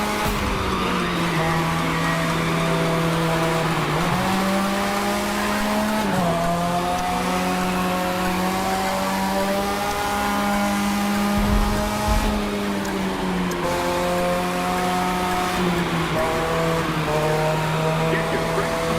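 A race car engine roars steadily in The Crew 2, its pitch dipping and climbing through gear changes as it drifts through a 360 turn, with tire squeal woven through the loud, continuous drone.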